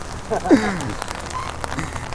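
Monsoon rain patters steadily in a Sundarban village beside a river, with a voice briefly heard over the soft hiss of the rainfall.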